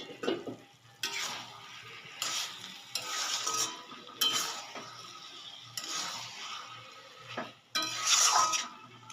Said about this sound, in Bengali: সামান্য পরিমাণে গরম মশলার গুঁড়ো ছড়িয়ে দিলাম এবার মিশিয়ে নিয়ে তরকারিটাকে নামিয়ে দেব